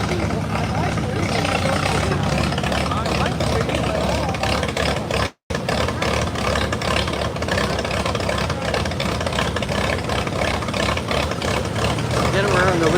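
An antique tractor engine labors under load at a tractor pull at the West Virginia State Farm Museum, a loud, steady, close roar that runs throughout with one brief dropout.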